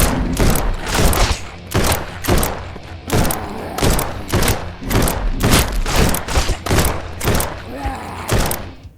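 Normal ammo fires repeatedly in God of Terra: Crestfallen, a rapid series of about sixteen loud, punchy thudding shots with short gaps, the volley rhythm fairly regular and close up.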